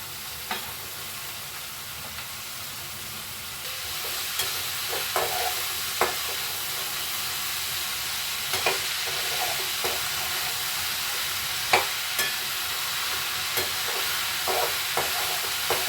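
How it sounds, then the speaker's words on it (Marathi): Chopped spring onion greens sautéing uncovered in hot oil on a lowered gas flame, a steady sizzle with occasional stirring clinks and scrapes throughout. "झाकण वगैरे नाही ठेवायचंय, अशी तेलावरच परतायचे आपल्याला"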